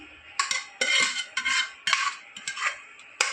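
A spoon stirs boiled dal into spices in a metal pot, scraping and clinking in quick irregular strokes, close and clear with no talk over it.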